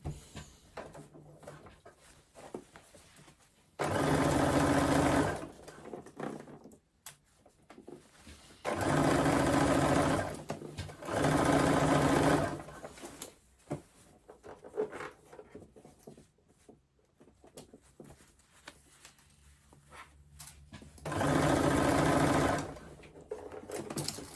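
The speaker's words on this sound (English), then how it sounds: "And sew the side seam on my machine." A sewing machine runs along the side seam of a crossbody bag in four loud, steady motorized bursts, with quiet handling and rustling of fabric between them.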